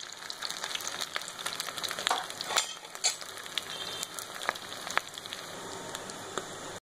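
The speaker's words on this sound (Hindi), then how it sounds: "अच्छी तरह फ्राई करें" Stuffed cheese rice croquettes fry in oil over a medium flame, giving a steady close crackle with scattered sharp pops and spits throughout, no voices.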